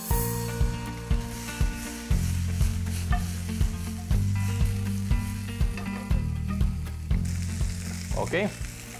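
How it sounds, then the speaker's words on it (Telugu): Mutton pieces with potato frying in a pan, a steady loud sizzle under a rhythmic series of heavy knocks from a stirring spatula against the pan, close by with no talk. "ఇలా ఫ్రై అయిపోయిన మీట్ని డిష్ అవుట్ చేసా"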